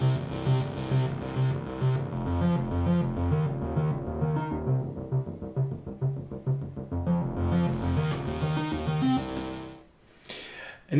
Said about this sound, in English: So the bass arpeggio sounds like this.